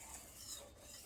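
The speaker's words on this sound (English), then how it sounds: "I'm going to mix these dry ingredients together like this" Dry buttermilk biscuit ingredients are stirred together in a bowl with a spoon, giving a soft, continuous scratchy rasp that stays faint and close for about a second, with no talking.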